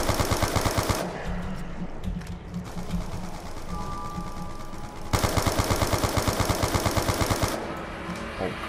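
MP40 submachine gun fire in Black Ops 2 Zombies, loud rapid automatic bursts at the start and again later, separated by quieter game noise and chatter.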